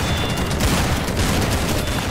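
A Fortnite-style gun fires in a randomizer video game, a dense crackling burst of rapid shots that runs loud and continuous through the whole moment, with no voices.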